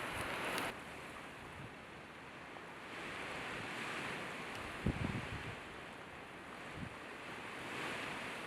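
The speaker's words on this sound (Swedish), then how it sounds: "det blåser ordentligt här ute på havet." Strong wind roars across the microphone over rolling surf out at sea off the island of Ven, Sweden, a steady blustery wash with a few brief gusts and thumps.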